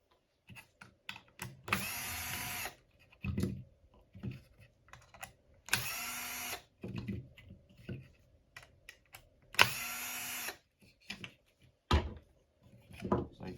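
Four small panhead screws are backed out of the servo mount on a Traxxas LCG chassis RC drag car, giving three short bursts of driver whirring between scattered close clicks and handling taps.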